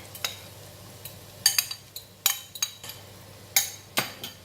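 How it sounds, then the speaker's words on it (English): Utensil stirring salted egg mixture in melted butter in a pan, with curry leaves, giving scattered clinks and scrapes of metal against the pan over a faint low hum, about a dozen soft knocks in an uneven rhythm. "And I'm going to stir until the mixture, start to bubble up."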